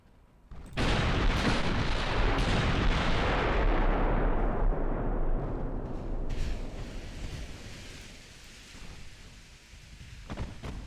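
Naval guns fire in the warship game Ultimate Admiral Dreadnoughts during a fleet battle near the Bismarck: a single massive, booming blast that hits suddenly and rumbles away slowly over several seconds, followed by smaller distant thuds.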